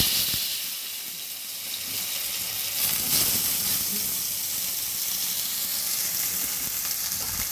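Vegetables, potato among them, go one by one into hot oil seasoned with hing in a home kitchen, giving a steady broadband sizzle and hiss that stays even throughout, with no talking.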